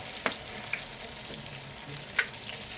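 Tofu fries in a pan with a steady, quiet sizzle, broken by a few sharp crackles and pops near the start and again toward the end. No one speaks.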